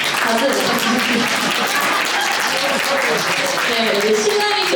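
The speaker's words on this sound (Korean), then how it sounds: "박수 부탁드립니다" Wedding guests applaud steadily after the bride and groom bow to each other, with clapping that fills the hall throughout and voices and cheers mixed in.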